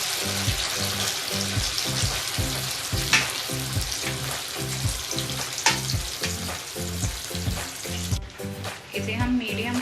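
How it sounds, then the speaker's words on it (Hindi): Boiled taro root (arbi) deep frying in hot oil over a medium flame gives a steady, dense sizzle and crackle that runs without a break, with a faint regular low pulse underneath. "अब हम इसे डीप फ्राई करेंगे।"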